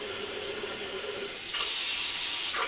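Water runs steadily from a tap into a tea kettle as it is topped up, a close, continuous splashing hiss that brightens as the flow changes partway through, with no talking.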